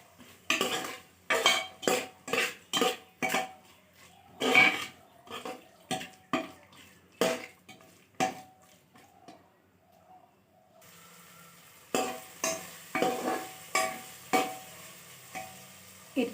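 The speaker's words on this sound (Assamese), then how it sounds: "এইখিনি এতিয়া ভালদৰে ভাজি ল'ব লাগিব।" Peas, fried onion and salt being stirred in a pan with a metal spoon, producing repeated sharp clinks and scrapes in a steady rhythm over a faint sizzle, close by.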